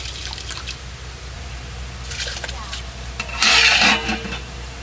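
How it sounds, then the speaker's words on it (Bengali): Rice for a village-style meal is rinsed by hand in water, making intermittent rubbing, swishing and splashing with a louder burst near the end, close by over a low background hum. "এবার চালটা ধুয়ে দিয়ে দেবো"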